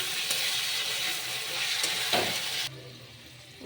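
Potatoes are stirred and fried in a pan, a loud close sizzle with a scraping stir, then the sizzle drops sharply as a lid covers the pan, leaving a quieter muffled simmer.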